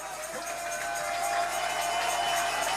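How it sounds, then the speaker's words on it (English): Baseball crowd on its feet at a Brisbane Bandits versus Sydney Blue Sox game, cheering for a final strike: a steady, distant roar of voices filling the ballpark with no clear individual calls. "But the crowd on their feet, cheering for this last strike."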